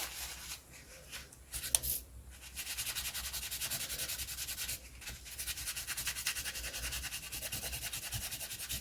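Polishing a surface on a fabric pocket tag craft project: a steady, close rubbing and scrubbing sound that runs almost continuously, with brief pauses near the start and around the five-second mark, with no talking.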